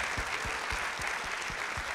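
An audience at a live NBA podcast taping in a Paris cinema applauds, dense continuous clapping from a crowd.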